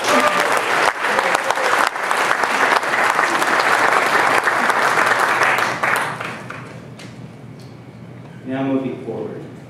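Audience applause fills a city State of the City awards luncheon in Beaumont, California, a dense sustained clapping that fades after several seconds, with a voice beginning to speak near the end.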